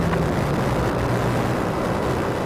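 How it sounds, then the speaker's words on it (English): A Jetstar Boeing 787 Dreamliner moving at Melbourne Airport, a steady broad roar of jet engines heard from a distance without talk. "We've got a Jetstar Dreamliner on the move too"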